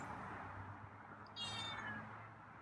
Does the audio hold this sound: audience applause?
no